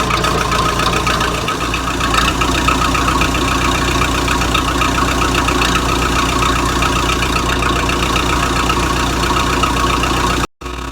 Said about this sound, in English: Have to start the machine up,